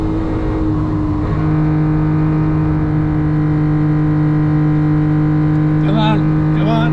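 Honda Beat engine fitted with individual throttle bodies, its intake note humming steady and loud from inside the cabin while lapping the Nürburgring, with people talking over it and brief chirping sounds near the end.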